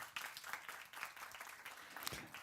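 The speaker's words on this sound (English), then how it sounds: "Please give her applause." Audience applause at a forum for creative professionals, scattered clapping that rises and falls unevenly, moderately distant, with no voices over it.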